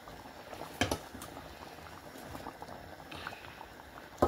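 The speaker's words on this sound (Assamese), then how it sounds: "ধুনীয়াকৈ উতলি গৈছে দেখিছে" Tea bubbles at a low, steady simmer in a pot, with soft gurgling and a couple of brief clinks, quiet and close with no talk.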